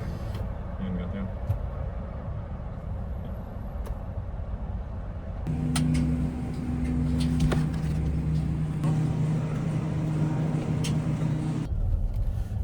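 Inside a moving car, a steady low engine and road rumble runs throughout and grows fuller and louder about halfway through, with a constant droning hum.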